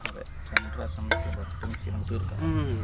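Dry fruits being mixed into a giant Christmas plum cake batter, with wet squelching and a couple of sharp clanks of the mixing tool against the vessel, close by, rounded off by a brief vocal sound.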